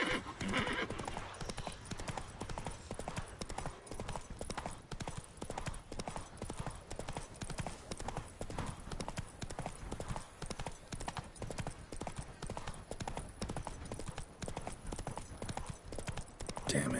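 The horse Roach gallops in the Witcher 3 video game, a dense, rapid drumming of hooves running continuously throughout, with a brief whinny early on and a voice speaking over it.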